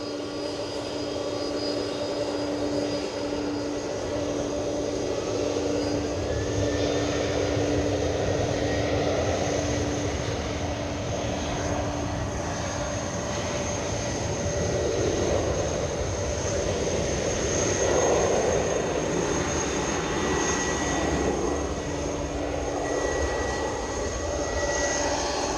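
Delta airliner at Edinburgh Airport, a steady loud jet engine roar and whine holding throughout with a slowly shifting tone.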